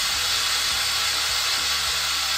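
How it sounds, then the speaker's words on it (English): Steam hisses hard and continuously from the lifted release valve of a crockpot-style pressure cooker, a loud, close, unbroken rush with faint low clunks beneath it. "If you wish to speed up the process, simply lift the steam valve"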